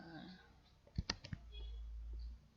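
A quick cluster of sharp computer keyboard key clicks, a Ctrl+V paste shortcut pressed while building a MATLAB GUI, comes close and crisp before settling into a low steady hum.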